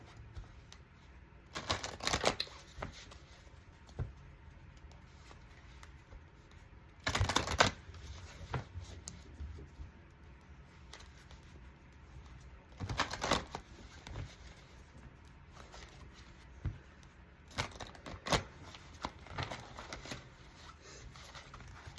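A Witch's Oracle card deck being shuffled, with four bursts of riffling cards spaced several seconds apart and quiet handling in between, close and fairly loud with no talking.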